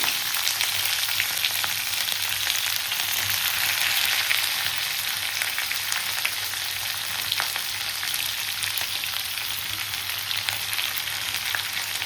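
Sliced onions and whole spices, cardamom among them, fry in oil in a pot for a chicken pulao, giving a steady close sizzle and crackle with no voice throughout.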